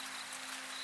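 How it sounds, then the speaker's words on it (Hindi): Steady rain falls without a break in a cartoon forest setting, a soft continuous hiss with no voices over it. "सारा दिन और सारी रात बारिश लगातार चलती रहती है।"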